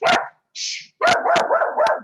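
A dog barks close and loud during an online committee meeting: one sharp bark, a short higher whine, then a rapid run of three or four barks.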